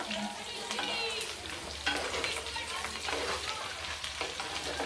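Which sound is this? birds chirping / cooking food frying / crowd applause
cooking food frying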